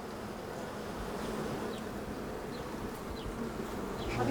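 Honeybees buzzing steadily outdoors, a dense continuous hum with faint individual passes, fairly loud and close with no talking.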